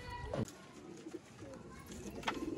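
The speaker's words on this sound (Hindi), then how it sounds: "उस्ताद जी अज अपने कबूतर लाए ने, नर लाए ने" Soft throaty cooing from male pigeons, a few low burbling calls close by amid faint background noise and a hint of voices.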